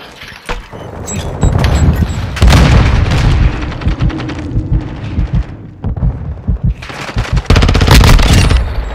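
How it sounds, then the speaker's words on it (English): Airstrike explosions and rapid gunfire in Modern Warfare 2 multiplayer: heavy booms and bursts of automatic fire crowd the scene, loud and close, with a brief lull in the middle before another dense volley. "Friendly airstrike on the way."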